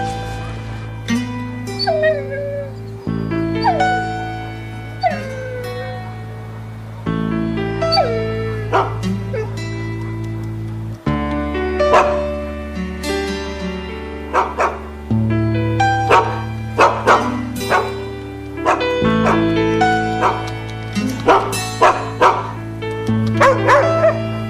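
Several dogs bark and whimper in a close, loud, restless chorus, with yips and whines repeating irregularly throughout.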